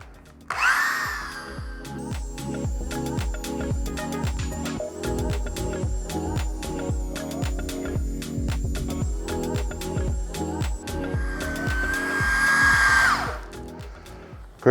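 A power sanding disc polishing glass whirs steadily for several seconds, spinning up at the start and winding down near the end, with scraping contact noise throughout.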